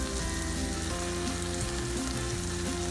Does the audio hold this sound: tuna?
yes